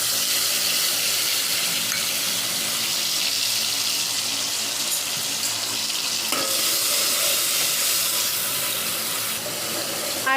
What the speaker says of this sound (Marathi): आता आपण ह्याची आळा लसणाची पेस्ट केलेली आहे ती टाकून घेऊया